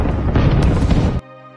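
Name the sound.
explosions of German artillery attack on Soviet border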